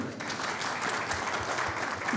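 Audience applause at a GECOTRANS company gathering, a steady wash of clapping held at an even level for a couple of seconds with a faint voice underneath.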